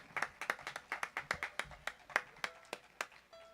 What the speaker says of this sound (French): devrait applaudir le groupe qui était là avant nous